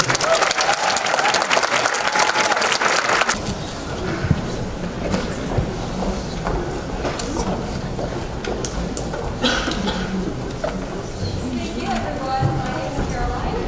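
At an international festival celebration, an audience applauds loudly for a few seconds, then the clapping drops to a softer scattered patter as voices and other room sounds continue.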